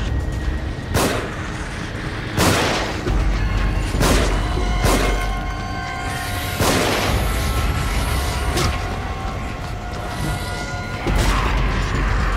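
Gunfire in The Evil Within survival horror game, a series of heavy, booming shots at irregular intervals over a dense, rumbling ambient backdrop.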